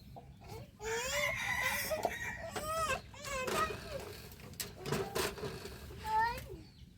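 Chickens cluck and squawk in short bursts at close range, with people talking intermittently over the birds.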